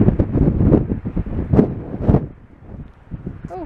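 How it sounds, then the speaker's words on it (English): Strong wind gusts buffet the microphone along a seaside promenade at Blackpool's North Shore, a loud continuous rumbling roar with surging bursts that eases off near the end. "this wind"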